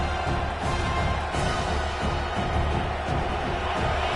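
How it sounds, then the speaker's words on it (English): Dense, constant roar of a Penn State football stadium crowd, a broad wash of distant cheering and voices with no distinct breaks, filling the whole stretch at an even level. "this crowd is fired up. Listen to this noise here."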